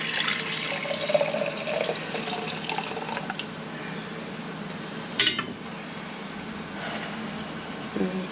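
Liquid pours into a jug during homemade yogurt making, a close, steady splashing stream for about three seconds, then softer trickling with a sharp clink of the container partway through.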